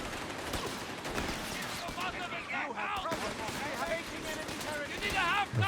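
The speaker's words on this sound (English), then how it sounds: "Machine gun time for me." Rapid bursts of machine gun fire mixed with other gunfire in the strategy game Company of Heroes 3, dense and continuous under game voices and radio callouts.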